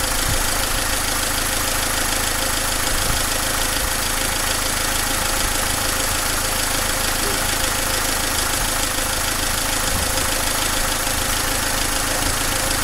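A Dacia Logan dCi diesel with Delphi injection sits idling with a steady, dense clatter and rumble, loud and close, holding an even knocking rhythm for the whole stretch with no pauses.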